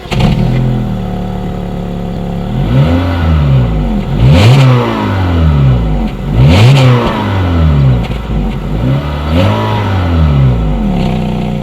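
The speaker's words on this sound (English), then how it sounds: "here is that exhaust clip" A 2018 Honda Fit's exhaust with a chrome tip is revved several times from idle, each rise and fall heard loud and close at the tailpipe with no talking.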